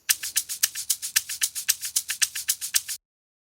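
Two layered shaker samples in an FL Studio Afro beat play a steady, bright rhythmic pattern of about fifteen crisp hits over three seconds, loud and alone, then stop abruptly.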